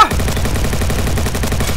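Loud, rapid repeated gunshots from video game combat, a dense stream of closely spaced blasts that starts with a sharp hit and keeps going with no talk.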